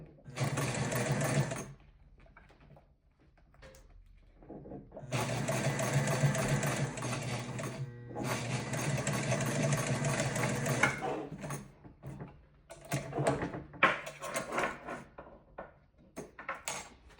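Home sewing machine stitching along cording while sewing rolled handles, running in several sustained bursts with short pauses between, close and fairly loud, with a few handling clicks and rustles.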